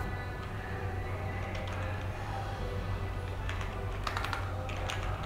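Rapid clicking of a computer keyboard as code is typed, in irregular bursts of keystrokes over a steady low hum, close and moderately loud with no talking.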